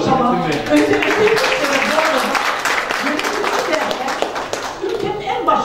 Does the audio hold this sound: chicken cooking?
no